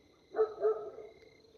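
A dog barks in a cemetery at night: two short, fairly faint barks close together, then quiet background hiss.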